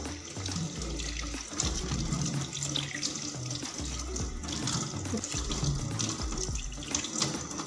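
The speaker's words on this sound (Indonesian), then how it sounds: "Setelah itu kita membilas." Tap water runs steadily into a sink while hands are rinsed beneath it, a continuous close splashing hiss with shifting gurgles, and a few faint sounds of movement around it.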